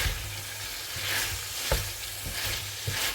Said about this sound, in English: So now I'm just gonna add some oil and fry these pork ribs.